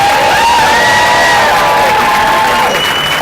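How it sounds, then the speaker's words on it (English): A crowd at a cheerleading state trophy ceremony cheers and whoops loudly for the head coach, with high shouted voices over a dense roar of noise throughout. "Could you give her a big round of applause?"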